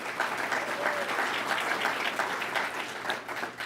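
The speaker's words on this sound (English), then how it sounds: "Give them a round of applause" An audience at a State of the City event applauds a sponsor, dense steady clapping throughout with a low hum beneath.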